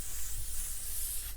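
Setting spray mists onto a face in one steady, continuous hiss lasting over a second, close and fairly loud, then cutting off abruptly, with no talking.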